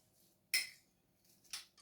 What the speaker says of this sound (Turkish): Yoğurdumuzu ekliyorum.